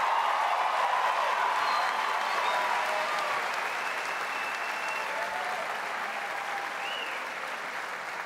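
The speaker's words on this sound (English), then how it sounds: "A round of applause, please, for the Greece Olympia Graduation Ensemble." A large audience applauds at the 2018 Greece Olympia High School commencement ceremony, a dense, sustained wash of clapping that fills the space and fades slightly toward the end.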